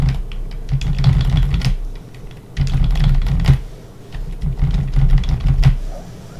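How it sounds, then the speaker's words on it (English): Fast typing on a computer keyboard in a code editor, dense bursts of close, clattering keystrokes separated by brief pauses, with no voices. "We can type anything."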